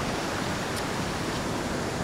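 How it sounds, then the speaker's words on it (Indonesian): Steady broadband roar of the waterfall at Kung Penotok, a hampala fishing spot, filling the whole stretch evenly with no voices over it. "air terjun Kung Penotok"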